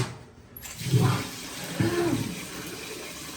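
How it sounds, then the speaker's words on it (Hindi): Fresh water poured into a cooking pot in a home kitchen, a short splashing pour near the microphone with no talk over it. "इसमें मैं न्यू पानी डाल के"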